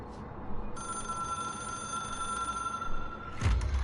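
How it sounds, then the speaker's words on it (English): An old-fashioned telephone bell rings with a bright, sustained metallic trill inside the game Control, starting abruptly and holding for a few seconds before a low thump cuts in at the end. "It is a phone"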